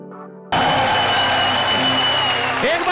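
A crowd bursts into loud applause with some cheering at an event, starting abruptly after a moment of quieter sound and holding strong to the end, with voices mixed into the noise.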